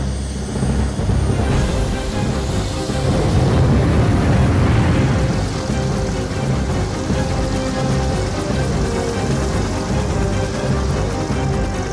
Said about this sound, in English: they finally arrive at the helicopter.